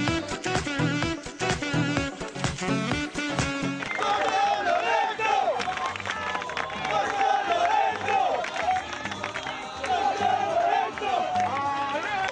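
Football fans in the stands at an amateur match between Tor San Lorenzo and Team Nuova Florida, a dense crowd din of chanting, cheering and clapping that fills the whole stretch, with voices mixed through it.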